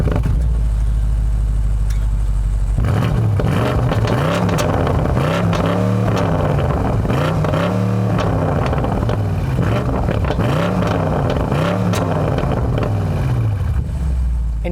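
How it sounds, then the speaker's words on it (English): A 2020 BMW M850i Gran Coupe V8 revved up close at a standstill, with loud, repeated throttle blips rising and falling about every two seconds after a steady idle. "This is the V8, so I'll let you guys hear what the engine sounds like real quick."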